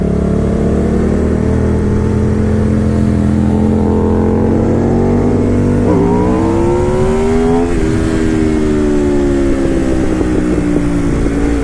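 An Aprilia RSV4R V4 sport motorcycle engine runs loud and close, holding a steady drone, then revving up in a couple of sharp blips before settling back, alone without talk.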